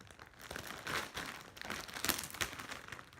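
Crinkling and rustling of a squishy mail package from eBay being handled and opened, soft plastic crumpling in irregular bursts with a couple of sharper crackles, close and fairly quiet, no talking.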